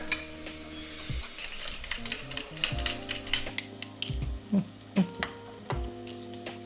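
Onions sizzle in a pan for a curry while a utensil scrapes and knocks against the metal in irregular strokes, with clinks and taps standing out over a steady background hum.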